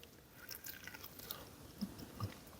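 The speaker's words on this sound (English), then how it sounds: "Let's take a quick bite and see how they taste." A quiet bite into smoked hickory-flavored pork loin back ribs, followed by soft chewing with a couple of faint crunchy moments, close up and alone.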